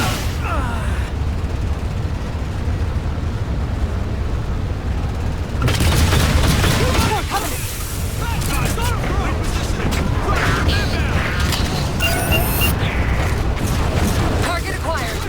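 Turret fire in the Halo 4 video game, heavy booming shots and blasts over a busy battle din, with explosions bursting in a cluster midway and voices talking throughout.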